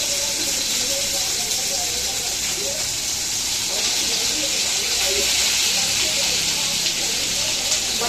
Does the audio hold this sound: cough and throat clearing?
no